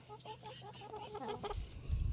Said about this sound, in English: And all my chickens are like, did you bring me food?